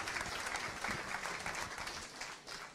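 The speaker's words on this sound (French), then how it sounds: "On peut les applaudir." Audience applause at a French-language event, a steady wash of clapping that stays dense and fairly even for a few seconds with no talk over it.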